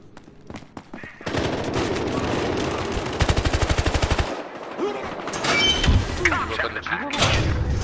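Automatic gunfire in Battlefield Hardline rattles in fast bursts, with a sharp run of evenly spaced shots in the middle and scattered impacts and thuds around it.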